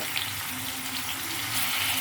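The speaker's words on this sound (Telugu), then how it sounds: "ఈ ములక్కాయలు కూడా ఉల్లిపాయతో ఎందుకు వేసానంటే ఇది ములక్కాయ కూడా నూనెలో వేగుతుంది" Drumstick pieces, green chillies and onions frying in hot oil in a kadai, a continuous close hiss and sizzle with no pauses and no talk.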